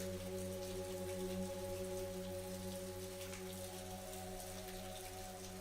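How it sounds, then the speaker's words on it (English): Steady rain patters in a soft continuous hiss, accompanied by a low constant electrical hum, with no voices. "As the rain continued to fall outside"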